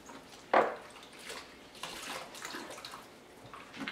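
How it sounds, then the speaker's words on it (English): A dishcloth is rinsed under running water at a sink, with a brief splash near the start followed by soft trickling and dripping, close and fairly quiet. "Rinse this dishcloth out many times."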